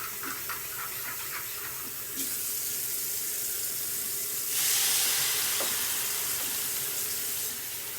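Tap water runs into a soup pot for chicken-base broth, a steady loud rushing stream whose tone shifts and brightens as the flow changes and the pot fills, with no talking.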